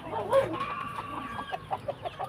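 A Rhode Island Red rooster crows once, close by, followed by a short series of rhythmic clucks.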